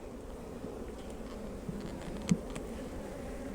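Honeybees buzz in a dense, steady drone inside a swarm hive holding several emerged queens and some drones, close and continuous with one brief louder flare partway through.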